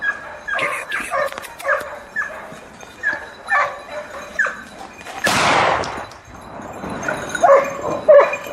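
Hunting dogs on a boar hunt, barking and yipping repeatedly in quick, uneven bursts at close range, broken midway by a sudden sharp, loud blast before the barking resumes.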